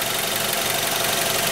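A 2012 Mazda 3 engine running steadily at speed, a loud, dense, continuous mechanical hum with no breaks and no voices over it.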